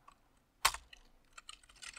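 Fingers type on a computer keyboard while a Linux hostname file is edited in a terminal; after a quiet pause a sharp burst of clicks starts, followed by scattered, close keystrokes of varied loudness.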